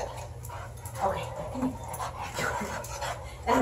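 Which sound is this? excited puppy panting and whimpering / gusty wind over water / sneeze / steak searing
excited puppy panting and whimpering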